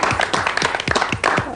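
An audience claps at a stage show, sharp hand claps landing in a loose, uneven rhythm and fairly close and loud, several distinct claps standing out above a steady patter from the crowd.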